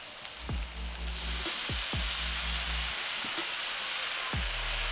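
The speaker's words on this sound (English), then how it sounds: "Go ahead and throw our ham and our prosciutto on." Ham and prosciutto sizzle on a Pit Boss five-burner griddle, a steady hiss running throughout the clip. Three or four duller knocks and thuds break in over it, most likely slices being laid down or moved. No one talks.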